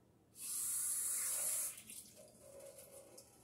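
Tap water runs into a shot glass in a short, close hiss lasting about a second, followed by faint trickling and dripping.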